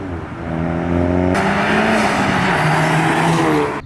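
Turbocharged 2019 VW GTI 2.0T with a hybrid upgraded turbo and a 3.5-inch catless downpipe accelerating hard, its engine note rising loud and close, with a sudden surge of rushing roar partway through.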